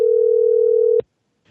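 A steady telephone dial tone from a radio studio phone system holds for about a second, then cuts off abruptly with a click, leaving silence.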